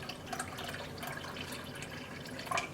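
Water is poured into a mason jar to make a water bath for dyeing yarn: a soft, close, uneven trickle and splash, fairly quiet, with a slightly louder splash near the end.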